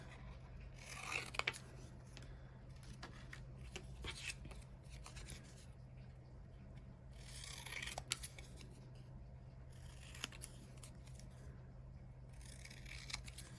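Hand scissors snip through paper while cutting out a card sentiment freehand, a few close, quiet crisp cuts spaced apart over steady low room hum.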